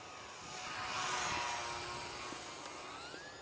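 A Horizon Hobby Carbon Cub SS UMX radio-controlled plane flies overhead, its small electric motor giving a thin, high buzzing whine that swells as it passes closer, then eases off. The sound is fairly faint and no one speaks.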